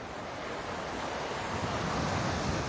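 Ocean waves crash on the shore at Waikiki, a loud continuous surf roar that builds slightly, with wind buffeting the microphone.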